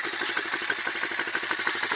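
A Chinese pit bike engine runs steadily, a close, loud, rapid buzzing putter with an even pulse and no speech over it.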